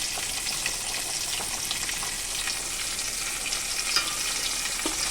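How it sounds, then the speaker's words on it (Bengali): Fish pieces fry in hot oil, making a steady, dense crackling sizzle that holds evenly throughout with faint occasional pops. It is close and moderately loud, with no speech. "একে একে সব মাছগুলোই ভেজে নিচ্ছি"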